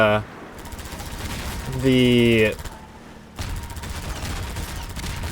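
Rapid bursts of video game gunfire shooting down missiles, dense and loud, with a brief tonal mechanical whine midway and sustained noisy firing throughout.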